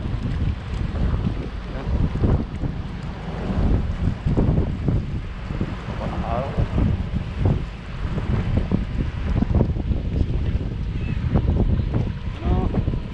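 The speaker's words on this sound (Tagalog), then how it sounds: "Medyo mahangin mga kasama eh." Steady wind buffets the microphone in a continuous low roar, with occasional faint voices underneath.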